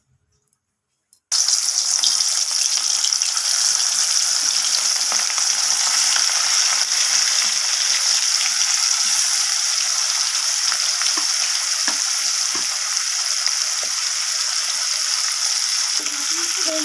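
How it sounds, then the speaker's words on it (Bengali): Hilsa fish pieces coated in turmeric and salt sizzle loudly and steadily in hot mustard oil, a dense continuous frying hiss that starts abruptly after a brief quiet moment and keeps going with small crackles throughout. "তেলটা আমার প্রায় গরম হয়ে এসেছে এরপর আমি আর হলুদ আর লবণ মাখিয়ে রাখা মাছগুলোকে তেলের মধ্যে দিয়ে দেবো"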